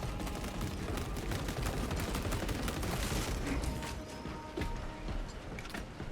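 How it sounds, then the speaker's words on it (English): In Space Marine 2, a heavy grenade launcher fires amid the fight, producing a dense, rapid stream of sharp reports and blasts with mechanical clanks, fairly faint in the mix. "I'm surprised how much work the nades actually put in here."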